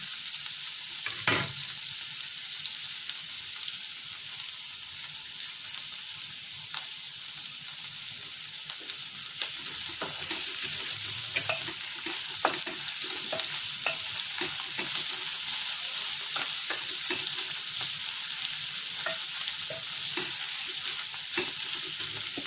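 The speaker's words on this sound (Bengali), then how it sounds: "গোটা পেঁয়াজটাকে চার টুকরো করেছি। আর এটা একটু ভাজা ভাজা হয়ে যায়, এর মধ্যে আমি রসুন আদা ছোট করে দিয়ে দিচ্ছি।" Quartered onion with chopped garlic and ginger stir-fries in a pan for a Chinese-style liver dish, giving a steady close sizzle with occasional scrapes and clinks of stirring and no talking.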